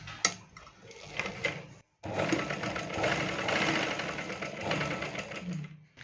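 A sewing machine runs in a steady, loud mechanical chatter while stitching the edge of a half-cup blouse, with a short stop and a brief pause before it starts up again and keeps going.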